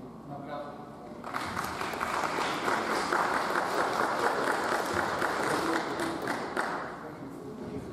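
Audience applause at a Spanish-language hearing and oral trial session, a dense steady clapping that swells after the first second and continues unbroken to the end.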